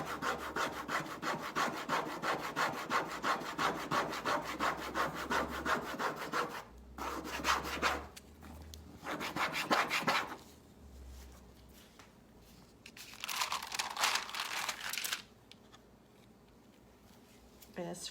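Mirror backing being scraped off onto foil while antiquing a mirror, a close, steady rhythmic rasping that runs in long bursts with short pauses between strokes.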